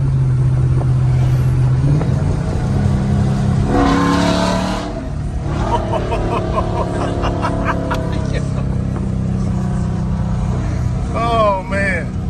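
A modified 2018 Chrysler 300S with a 5.7L Hemi V8 and performance engine mods revs up loud and close. The deep exhaust climbs and falls through several pulls, and voices come through partway over the engine.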